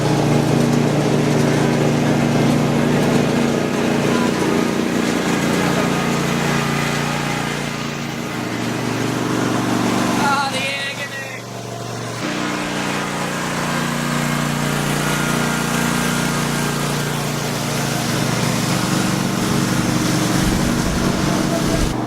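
A zero-turn ride-on mower, an MZT52, drives flat out in a straight line, its engine a loud, steady, close drone that dips slightly twice before holding its pitch.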